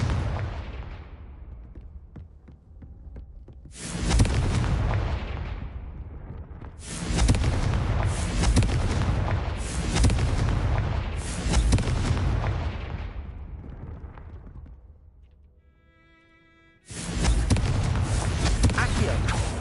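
Confringo spell explosions in a Hogwarts video game erupt as a series of loud, heavy booms, each followed by a long rumbling decay, with short pauses between blasts.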